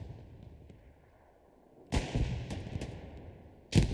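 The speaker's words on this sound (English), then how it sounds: "Grenades coming in on the Gary" Grenades burst in a Hell Let Loose infantry battle, two sharp blasts partway through and at the end with crackling debris and distant gunfire, set against a low battlefield rumble.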